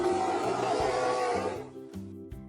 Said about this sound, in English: It's a bear.